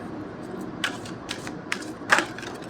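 Another tarot card is drawn from the deck, producing a few faint, brief papery clicks and rustles over a steady low room hum.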